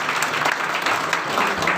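Audience applause honoring a newly elected provincial president, Mahendra Sharma, at a felicitation gathering; a short burst of steady, fairly dense clapping from a crowd.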